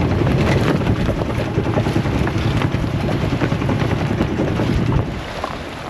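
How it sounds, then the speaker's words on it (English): Strong squall wind roars steadily across a microphone on a cruising sailboat off the Great Barrier Reef. Dense, loud rushing noise with water sounds underneath eases slightly near the end, and no voices are heard. "there's a lot of squalls ripping through"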